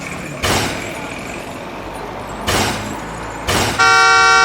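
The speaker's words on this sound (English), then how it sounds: "Canada pump truck, a full loaded truck jumping." A fully loaded pump truck rolls over a roadside speed bump, its chassis thudding down in three loud, evenly spaced impacts over a steady engine rumble, and a sustained horn blares at the end.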